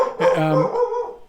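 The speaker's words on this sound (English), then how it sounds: "excuse the dog, he's getting excited." An excited dog barks and yelps close by, one sustained, strained vocal burst with whimpering tone lasting about a second.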